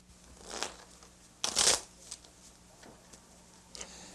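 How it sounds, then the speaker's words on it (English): Blackjack playing cards being shuffled in a few quick riffling bursts, the loudest one in the middle, each brief and crisp against a quiet background. "that's a familiar sight, the shuffling of blackjack cards"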